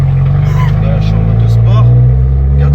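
Abarth 595 Turismo with a stage 2 tune accelerating in sport mode, a loud deep engine drone rising in pitch from inside the cabin, with people talking over it.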